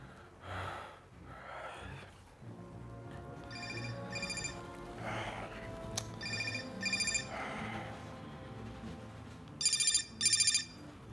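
A telephone rings during a TV drama scene. Two short, bright electronic ring bursts come near the end, after quiet breathing and gasps.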